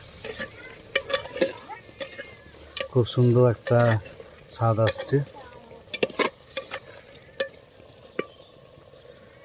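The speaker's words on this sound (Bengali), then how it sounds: "এই যে মাংস কষা হচ্ছে দেখতে পাচ্ছ হাঁড়ির মধ্যে" Goat meat braising in a clay pot makes a low sizzle broken by repeated scraping and stirring knocks of a spoon against the pot, while a person talks over it.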